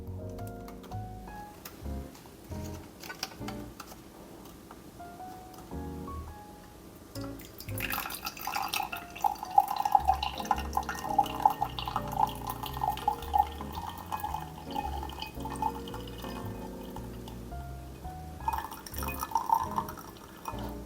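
Water runs from a Lelit Bianca V3 espresso machine through its filter, a steady liquid stream with trickling and dripping that starts partway through and keeps flowing, moderately close, with no talk.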